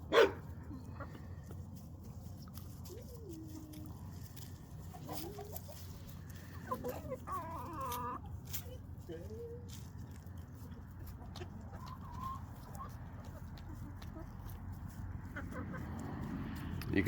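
Mixed Brahma hens and other backyard chickens cluck softly in a coop, with scattered calls over low ambient noise and a faint dog-like bark, the birds moderately distant.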